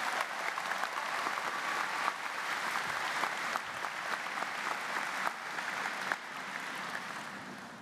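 A big, sustained round of applause from a large crowd at a university convocation ceremony, dense and even for the whole stretch, heard from a distance.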